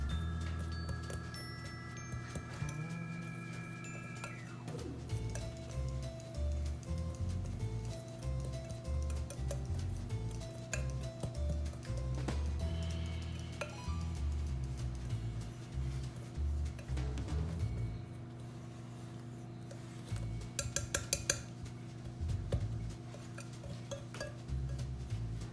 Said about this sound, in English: we're going to mix all these ingredients together until crumbly